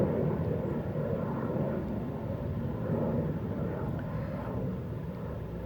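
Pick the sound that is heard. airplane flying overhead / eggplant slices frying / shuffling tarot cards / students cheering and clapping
airplane flying overhead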